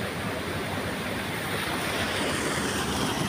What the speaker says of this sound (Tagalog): ayan na guys yung falls dito oh